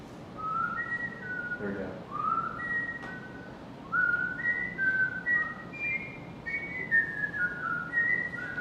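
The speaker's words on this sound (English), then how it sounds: "That's a good whistle." A person whistles the Jeopardy theme melody, clear and fairly close in a meeting room with faint background noise, with a brief spoken remark from someone nearby.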